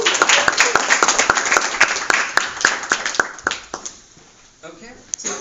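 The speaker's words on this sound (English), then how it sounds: "Good round of applause." Applause from attendees at a training session, sharp close hand claps standing out over a wash of clapping that tapers off, followed by a voice starting to speak.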